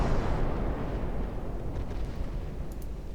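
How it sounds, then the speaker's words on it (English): Warship guns firing in the naval battle game Ultimate Admiral Dreadnoughts make a heavy, loud booming rumble that rolls on continuously, with faint higher crackles near the end. "Firing at enemy battleships"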